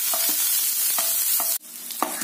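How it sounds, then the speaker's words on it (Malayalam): Onions and curry leaves frying in hot oil for a duck curry, giving a steady close sizzle with a few spoon-stirring scrapes and a brief break near the end. "എണ്ണയിൽ 2 ഉള്ളി കറിവേപ്പില മൂപ്പിച്ചിടുന്നു"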